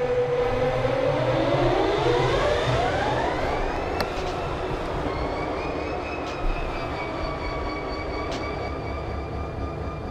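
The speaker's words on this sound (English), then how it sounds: "So let's spawn the train and see what happens." A simulated freight train in the Run8 V2 train simulator at Waycross sets off with a loud, rising whine that climbs in pitch and settles into a steady mechanical drone, with a few sharp clicks over continuous rumbling.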